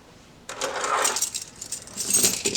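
Keys carried as everyday-carry gear jangle and clink in a bright metallic burst lasting a couple of seconds, close and fairly loud with no talking.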